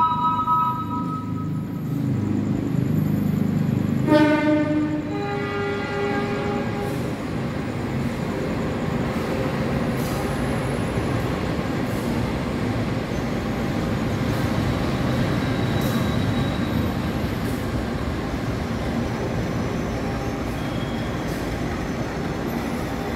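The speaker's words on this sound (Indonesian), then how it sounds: "Argo Sindoro berangkat kembali menuju tujuan akhir stasiun Jakarta Gambir" The Argo Sindoro passenger train pulls away from Jatinegara station, Jakarta, with a short horn sounding early, then a steady rolling rumble of wheels that builds and continues.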